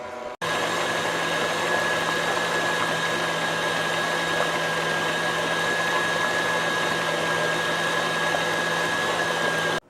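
An electric mixer beating keto pumpkin cheesecake mousse in a bowl at high speed: a loud, steady whirring motor hum that starts abruptly and runs unbroken for nearly ten seconds before cutting off.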